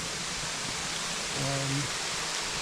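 A steady, full rush of falling water from a waterfall on a hike in Shenandoah, broad and continuous throughout, with a brief voiced sound rising over it midway.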